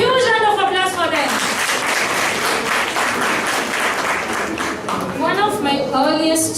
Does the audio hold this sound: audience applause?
yes